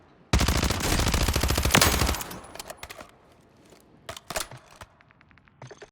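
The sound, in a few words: gunfire from a weapon in the video game Warzone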